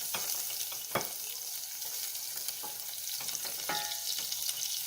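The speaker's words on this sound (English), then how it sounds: "I have my saucepan right here. It's on heat and high heat, and to that I'm going to add in the butter." Butter melts in a saucepan over high heat, giving a soft continuous sizzle with a few sharp crackling pops, close but fairly quiet, no talking.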